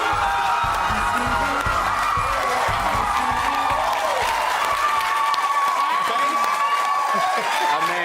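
Studio audience applauding and cheering for a band, dense continuous clapping with whoops, loud and sustained throughout.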